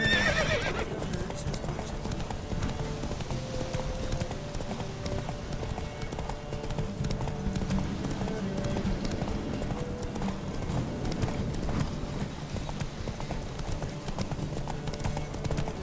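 Steady clip-clop of horse hooves at a brisk gallop in the video game The Witcher 3: Wild Hunt, with whinnying mixed in over a dense, busy background.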